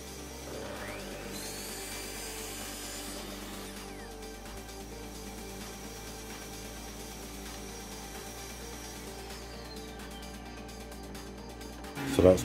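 A saw makes a 45-degree cut through skirting board, a short high whine of a few seconds over a low steady hum, fairly faint, followed by a quieter stretch with a soft knock at the end.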